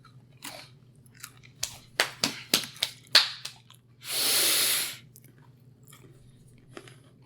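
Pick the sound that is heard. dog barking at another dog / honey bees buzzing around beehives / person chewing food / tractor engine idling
person chewing food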